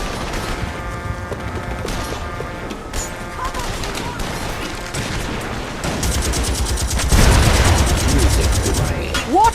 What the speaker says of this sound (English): Wanker's shooting at me.